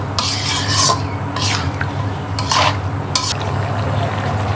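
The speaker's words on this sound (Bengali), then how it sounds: "এখন লাউটা ভালোভাবে নাড়িয়ে নিতে হবে যেন মশলাগুলো ভালোভাবে লাউর মধ্যে ঢুকে যায়।" Bottle gourd and snakehead fish curry being stirred and sautéed in a pan, with four bursts of scraping, rasping spatula strokes over a low steady cooking hum, close and fairly loud, with no speech.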